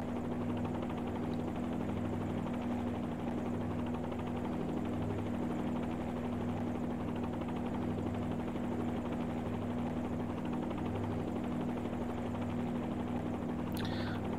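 A helicopter hover-taxis along a runway, its rotor and engine droning steadily and loudly close by with a constant low thrum, no break in the sound.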